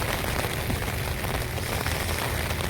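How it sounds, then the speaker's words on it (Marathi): Heavy rain with strong wind outdoors, a dense, unbroken roar of rain striking surfaces, loud and constant, with gusty rumble underneath. "बाहेर बघा पाऊस किती आहे."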